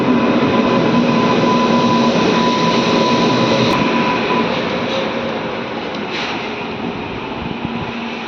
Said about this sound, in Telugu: WAG9 HC విజయవాడ డివిజన్కి సంబంధించిన లోకోమోటివ్.